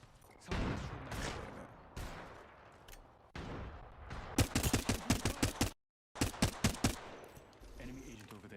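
Apex Legends gunfire rattles in close, rapid bursts, with sharp repeated shots in quick rhythmic strings, a brief silent gap, then another burst and scattered impacts.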